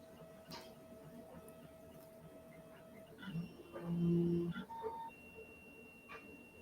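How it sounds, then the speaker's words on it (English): A printer runs nearby with a soft mechanical whir, faint tonal beeps and hum, then a louder motor burst of a second or so in the middle before settling back to quiet clicking. "I like the sound of that printer."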